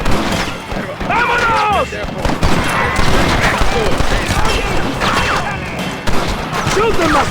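Gunfire in the open-world Western video game Red Dead Redemption, loud repeated shots and crashes in a hectic firefight, with voices shouting over it.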